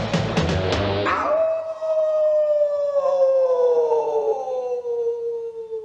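A long, sliding cartoon wolf howl from the Teen Wolf animated series, loud and sustained, slowly falling in pitch after a brief burst of sung or shouted vocals at the start.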